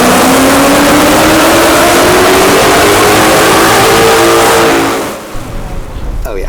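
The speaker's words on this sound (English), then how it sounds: "the Mustang, which sounds way better than the Camaro" A Ford Mustang engine revs loud and close, its pitch climbing steadily for about five seconds before cutting off abruptly, leaving a quieter idle and faint background noise.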